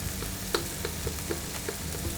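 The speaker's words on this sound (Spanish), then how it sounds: "Le añadiremos 4 o 5 hebras de azafrán, que se tuesten un poquito." Saffron threads toast in a hot pan with a faint, steady sizzle and a few soft ticks and pops.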